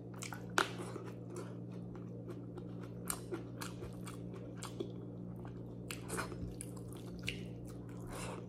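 Someone eats fried salmon with sautéed pechay and rice at close range, with soft wet chewing, occasional crunchy bites and light utensil taps against a quiet steady background hum.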